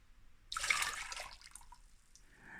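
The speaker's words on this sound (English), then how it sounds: "So I'm going to add more hot water right now" Hot water poured into a saucepan while making wonton soup, a steady splashing pour that starts abruptly, holds for about a second, then eases into a softer trickle with no talking.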